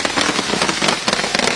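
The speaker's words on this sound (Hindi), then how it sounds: "पटाखे जो यहाँ छोड़े जाते हैं।" Firecrackers bursting at a BJP victory celebration in Goregaon, Mumbai: a dense, continuous crackle of rapid sharp pops, loud and close, with no voices over it.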